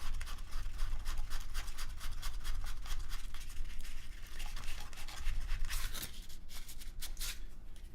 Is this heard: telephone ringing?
no